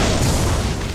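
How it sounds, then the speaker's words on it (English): A loud, dense explosion from shurikens blowing up in the Ninja Gaiden 2 video game, a single heavy booming burst that fills the whole short moment with no quiet gap. "dash right as the shurikens explode"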